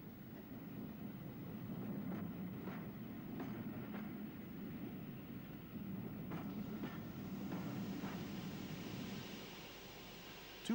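Two Great Western pannier tank steam locomotives heading a special train on a small branch line, a steady rumbling roll with repeated wheel clicks over rail joints, continuous and moderately close throughout.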